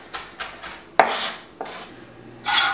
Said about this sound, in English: I'm also going to dice up these stems really well